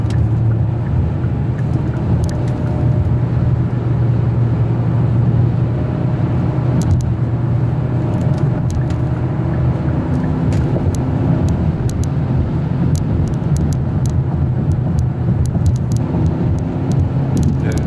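Hyundai Sonata DN8 N Line driven in manual mode, a steady low engine and road drone inside the cabin with light clicks and ticks over it, no voices.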